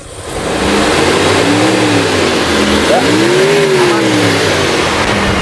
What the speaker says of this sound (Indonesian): Kita geber, suaranya masih tetap halus, baik-baik saja.